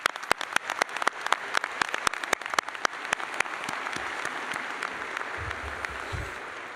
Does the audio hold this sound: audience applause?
yes